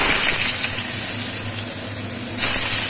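Potatoes fry in hot oil and ghee in a wok, making a loud, steady close-up sizzle that hisses without pause and briefly dips before swelling again.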